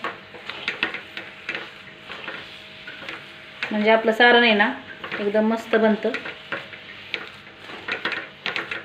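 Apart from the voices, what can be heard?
stirring coconut and jaggery modak filling in a kadhai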